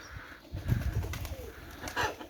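Soft, low cooing from nesting pigeons sitting on eggs close by, a few murmured calls over a quiet background hum.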